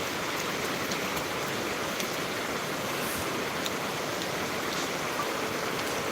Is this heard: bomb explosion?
no